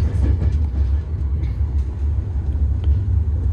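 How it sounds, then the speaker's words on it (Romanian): Rumbling interior of a moving train, a steady low droning roll with faint rattles and clicks of the carriage, continuous and close, with no talking. "Suntem în tren."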